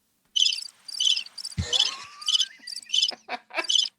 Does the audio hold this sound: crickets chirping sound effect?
yes